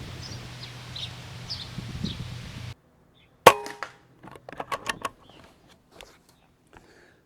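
An airgun fires Crosman Premier Hollow Point 14.3-grain pellets at playing cards 50 yards away outdoors: one sharp close crack, followed by quieter clicks and handling noises, with birds chirping faintly earlier.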